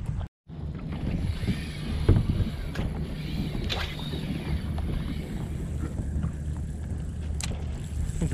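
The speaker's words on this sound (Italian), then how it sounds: "Che palle questi queste barche." A motorboat drones steadily nearby with a low engine hum, water splashing and wind buffeting the microphone throughout, heard while spin fishing from the shore.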